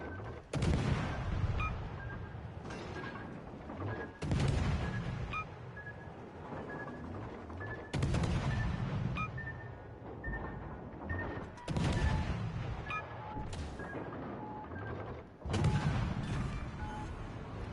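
Naval gunfire from enemy warships in World of Warships Legends: five heavy, booming salvos land at roughly four-second intervals, each a loud broadband blast that rumbles and decays over steady engine and sea noise, with no talk.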